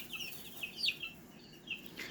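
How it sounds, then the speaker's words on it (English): All black hens give a few short, sharp clucks and squawks close by, spaced irregularly over a quiet background. "So these are my all black chickens"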